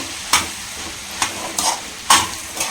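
A beetroot and carrot stir-fry being stirred in a pan: a few sharp scraping strokes of a spoon against the pan over a soft, steady sizzle, close by and with no voices.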